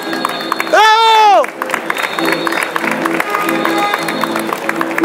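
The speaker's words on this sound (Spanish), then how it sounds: "pido un fuerte aplauso revolucionario" An audience at a huayno concert in Buenos Aires applauds and cheers for a song by a detained Peruvian political prisoner, sustained dense clapping from a crowd after a brief loud whistle-like shout.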